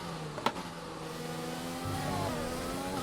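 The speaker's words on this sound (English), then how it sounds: "Oh, I love that you can hear the cars on the overpass ahead." Race cars passing along an overpass ahead on the Suzuka circuit in the F1 2020 video game, a steady engine drone with rising and shifting tones and one sharp click early on.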